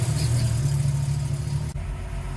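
A Ford Mustang idles with a newly installed exhaust, a steady, close, loud low rumble that cuts out sharply near the end.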